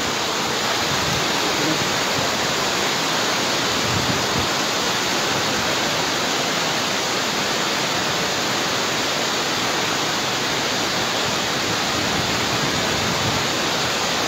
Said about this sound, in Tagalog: Malakas nga po yung agos.